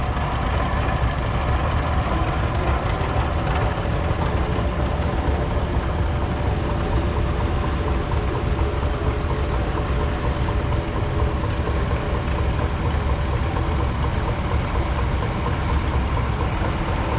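A 1941 John Deere Model B tractor runs steadily in a threshing-show parade, its engine a continuous low, loud chugging drone that persists without break, mixed with outdoor background noise.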